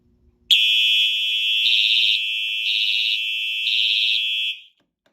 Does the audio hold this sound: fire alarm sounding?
yes